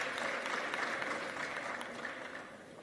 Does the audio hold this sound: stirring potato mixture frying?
no